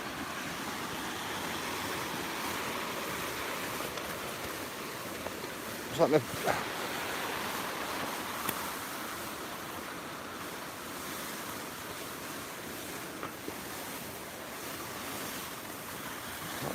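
Steady rushing splash of water as a vehicle pushes through a swollen river, broad loud wash with wind buffeting, and someone speaking briefly over it.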